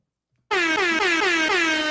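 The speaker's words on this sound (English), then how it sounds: "Hit that air horn." Loud air horn sound effect bursting in after a short silence and blaring continuously with a wavering, pulsing pitch until the end.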